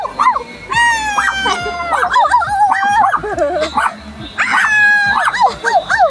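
Dogs yip, whine and bark close by in an excited, overlapping burst, with squeaky whimpers rising and falling throughout.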